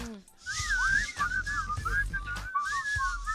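A person in a radio show audience whistles a wavering, tuneful melody up close, with a few soft background noises and murmurs underneath.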